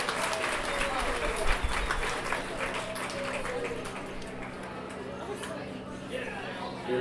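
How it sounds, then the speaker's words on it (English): Audience applause at a county fair livestock judging ring, moderate clapping blended with crowd chatter and a distant announcer-like voice, continuing steadily throughout. "Let's send them out again one more time with a big round of applause"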